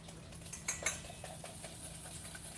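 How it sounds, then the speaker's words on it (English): Crème fraîche is whisked into about three eggs in a pan, giving faint, quick metallic scrapes and taps of a whisk against the pan over a low steady hum. "So I'm just whisking this creme fraiche straight away into the eggs."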